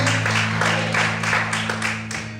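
Congregation applauding in a church, a few seconds of dense, even clapping over a steady low hum, gradually easing toward the end.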